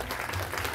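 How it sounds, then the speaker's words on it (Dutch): Applause from an audience, a steady wash of clapping hands lasting under a second with no voices over it. "Dames en heren, applaus voor deze dappere dame."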